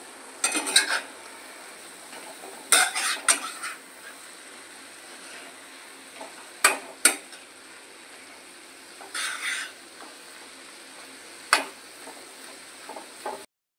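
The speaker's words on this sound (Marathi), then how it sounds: "आता परत एकजीव करून घेऊया" A spoon scrapes and clinks against a pan while radish leaf greens are stirred, giving sparse metallic knocks and taps at irregular intervals over a quiet background.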